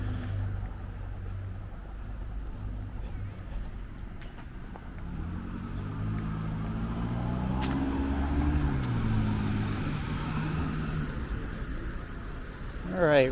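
A car passing on a Brooklyn street in the Bath Beach and Gravesend area, a steady engine and tyre rumble swelling and fading nearby, with some faint voices and street noise underneath.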